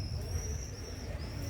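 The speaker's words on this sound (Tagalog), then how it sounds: "Daming ibon, may tunog." Many birds calling across the old town of Visby, Sweden, with a high, thin repeated call sounding faintly over a steady low outdoor rumble.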